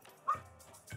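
A dog in the Thirsty Suitors video game demo, giving a single short, fairly faint yip or bark, followed by quiet game ambience.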